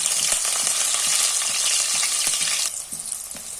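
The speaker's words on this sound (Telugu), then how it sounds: "ఆనియన్ ఫ్రై అయినాయండి." Onions fry in hot oil with green chillies in a pan, a loud dense sizzle with regular scraping strokes of a spoon, the hiss dropping suddenly near the end as stirring continues.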